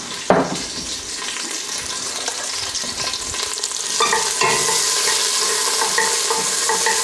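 Pre-made garlic and olive oil hitting a hot pan for homemade tomato sauce: a sharp knock at the start, then a bright, steady sizzle that grows louder and fuller partway through.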